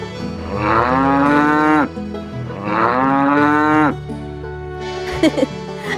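A cartoon calf gives two long, drawn-out moos, then a shorter lowing call. Each sounds loud and close, with no talk over them.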